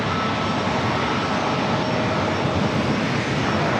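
Jets queue for takeoff at San Diego airport under a loud, steady broadband engine roar with a faint high whine running through it. The roar stays constant and nobody speaks.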